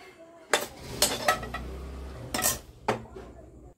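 Cooked bread pizza filling mixture scraped from a pan onto a plate, giving several sharp utensil clinks and scrapes against cookware and dishware, close and fairly loud with short pauses between.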